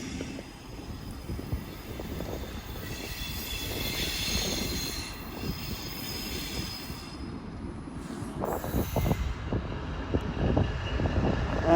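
Railway scene at Edge Hill: a locomotive moving along the rails past a stationary train held at a red signal, a steady rumbling roll with faint wheel squeal, moderately distant and without talk.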